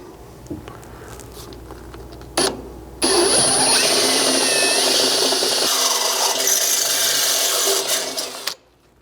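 A drill drives a thread-cutting bolt into the cross member of a Chevy Colorado pickup during a skid plate install. A short burst comes first, then a loud, steady grinding whine runs for several seconds before it stops abruptly.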